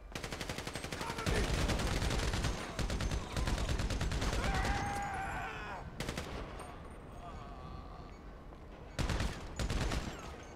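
Police minigun fire in GTA V, long roaring bursts of rapid automatic shots that cut off and restart, loud and close, with a few scattered later volleys; a voice speaks briefly among the gunfire.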